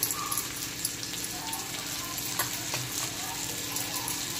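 Fish frying in an open pan, a soft continuous sizzle with small crackles and the occasional light scrape of stirring, fairly quiet and close, no talking.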